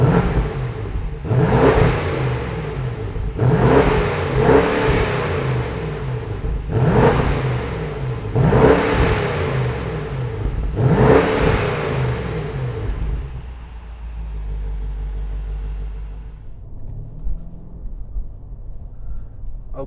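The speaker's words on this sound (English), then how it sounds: "speaking of the exhaust, let's go ahead and hear how it sounds" A 2021 BMW M550i xDrive with a 523 hp V8 revs repeatedly, five loud rising blips of exhaust roar each falling back to idle, then the engine settles into a low rumbling idle.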